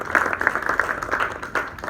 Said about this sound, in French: je tenais vraiment à ce qu'on applaudisse toutes les personnes qui ont travaillé pour avoir cette stratégie aujourd'hui